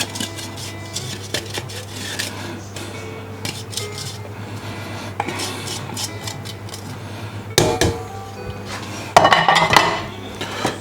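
A metal saucepan and other cookware clank and scrape as they are handled in a kitchen, with sharp clinks and a louder clatter near the end; no talking.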